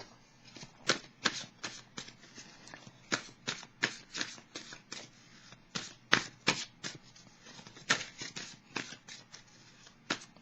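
A tarot deck is shuffled by hand in quick papery riffles and flicks, a run of crisp close taps and brushes at an uneven rhythm, fairly quiet with no talking.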